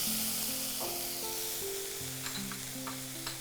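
Tomatoes hitting a pan of golden fried onions, a soft, steady sizzle with faint stirring scrapes and small clicks, close and fairly quiet, with no talk.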